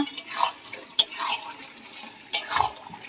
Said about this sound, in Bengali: ঘুগনিটা আমার ভালো করে কষানো হয়ে গেছে